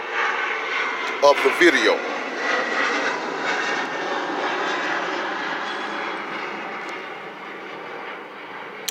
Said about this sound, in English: Okay, I'm gonna let that plane go by.